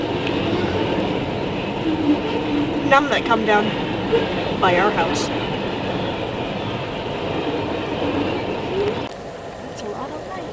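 A train passing near a roadside in Nova Scotia, its steady rumble and rolling clatter running through the whole stretch while people talk over it, ending in a quieter tail.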